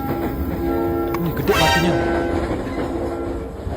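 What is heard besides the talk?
KRL commuter train running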